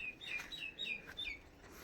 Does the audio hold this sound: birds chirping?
yes